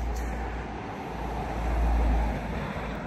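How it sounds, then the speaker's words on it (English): A steady roadside rumble of mechanical cars rolls past continuously, with a low engine drone swelling slightly as traffic goes by, no talk. "while I wait for these noisy mechanical cars to go past"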